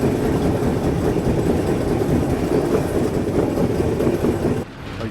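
Patna-Howrah Express passenger train crawling slowly near Koilwar, a steady close rumble of rolling wheels with faint clickety-clack, continuous and fairly loud without voices, dropping off abruptly near the end.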